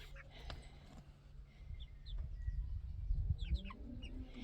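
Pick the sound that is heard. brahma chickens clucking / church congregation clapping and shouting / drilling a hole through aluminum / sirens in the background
brahma chickens clucking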